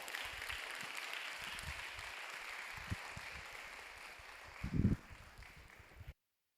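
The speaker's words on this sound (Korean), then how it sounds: "첫 번째가 제일 힘들기 때문에 우리 첫 번째 신앙에 대해서 이야기를 해줄 김장관 형제를 박수로 맞습니다." A church youth congregation at a Sunday worship service applauds to welcome a speaker: steady, soft, room-filling clapping that holds evenly throughout, with a brief louder thump near the end before it stops.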